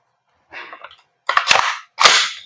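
A WE M4RIS airsoft gas blowback rifle fires three separate sharp, loud shots, the last two harder and snappier, with short pauses between them and no talking.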